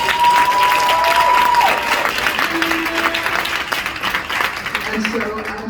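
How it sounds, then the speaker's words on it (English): An audience at an evening awards event breaks into loud, sustained applause for an honoree, the dense clapping holding steady throughout with a few faint voices mixed in. "Give him a big round of applause."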